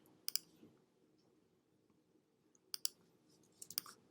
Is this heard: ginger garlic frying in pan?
no